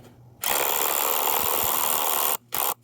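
A power drill boring into rock to replace a climbing wedge bolt grinds loudly for about two seconds, stops briefly, then gives one more short burst, close and harsh.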